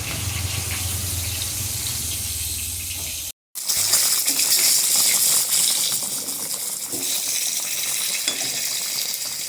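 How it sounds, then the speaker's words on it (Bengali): Fish fries in a pan with a loud, dense crackling sizzle that runs steadily throughout, broken only by a brief gap, close up and with no one talking. "এবার মাছটা ভাজা হয়ে যাক আমার ওপিট, তারপরে এর মধ্যে ছেড়ে দেবো"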